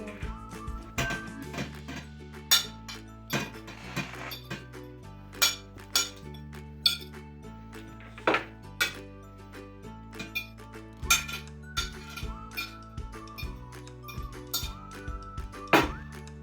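A spoon clinks and knocks against a bowl in irregular strokes while grated apples are mixed, the taps standing out over steady background music.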